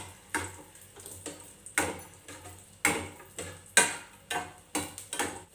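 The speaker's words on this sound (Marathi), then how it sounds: "मी त्याच्यामध्ये हे ड्रायफ्रूट्स म्हणजे काजू बदाम आहे ना तर ते टाकते ते थोडेसे मी तुपामध्ये परतून घेते" Cashews and almonds sautéing in ghee in a pan, heard as a steady run of close, rhythmic scraping and clinking stir strokes, roughly one or two a second, over a low sizzle with no talk.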